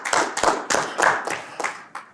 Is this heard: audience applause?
yes